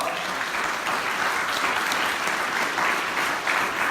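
An audience at a startup pitch competition claps in steady, dense applause that stays loud and even throughout, with no talking over it.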